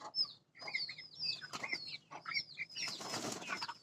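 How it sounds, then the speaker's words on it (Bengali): Tiger-breed chickens resting on a farm in hot, humid weather give a run of repeated, fairly close clucks and calls that follow one another steadily through the clip, with no talking. "সেজন্য মুরগিগুলা একটু হাঁপিয়ে যায়।"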